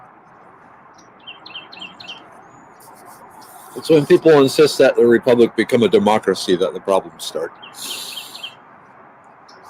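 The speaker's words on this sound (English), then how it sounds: "there are a lot of birds. Singing birds." Small songbirds chirp in short, repeated high tweets outdoors, faint and brief at the start and end while someone talks loudly through the middle.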